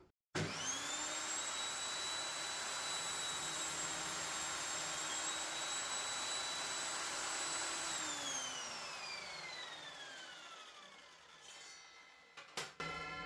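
An Evolution table saw with a sliding table spins up with a loud, steady high whine and cuts through a 2.5 by 2 inch piece of timber, then its pitch slowly falls as it winds down, ending in a few clunks.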